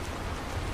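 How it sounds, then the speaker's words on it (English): Rain falling on a road at night, a soft, even patter and hiss held steadily throughout, with no voices. "At first he didn't notice anything but the sound of rain."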